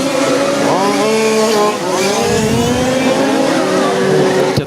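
A 1/5 scale RC Formula 1 car screams down the straight in a French championship final, its high-pitched engine rising and falling in pitch as it revs and passes, loud and continuous.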